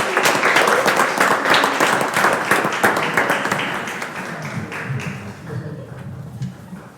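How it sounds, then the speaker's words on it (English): Audience applause at a Preston Board of Education meeting, a dense patter of many hands clapping loudly at first, then thinning and fading over the last seconds with scattered claps. "Again, we give the team a big round of applause"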